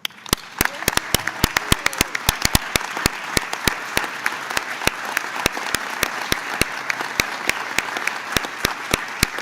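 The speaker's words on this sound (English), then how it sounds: "If you stand, we'll give you another round of applause." A room of attendees at a congressional committee hearing gives a round of applause, with crisp, distinct claps sounding steadily and close by.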